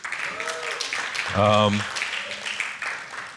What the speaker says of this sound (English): Oh, lots of clapping.